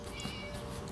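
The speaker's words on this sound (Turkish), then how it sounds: "Miau diyor. Yazık küçük kediciyi hapsetmiş. Miu yapıyor." A cat gives a brief meow over a dense, steady background hum, in the video game Scary Teacher.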